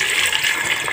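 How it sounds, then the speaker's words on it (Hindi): Water pours steadily into a pan holding chopped onion, garlic, tomato and chili, a loud, close, continuous splashing rush with no voices. "डालती हूँ इनमें मैं पानी"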